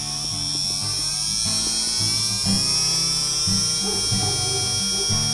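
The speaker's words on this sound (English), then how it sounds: "It's only just spinning up. It's quite a fast RPM motor, this one." A small, fast-RPM electric motor driven by a bench power supply spins with a steady high-pitched whir and buzzing hum that stays constant throughout.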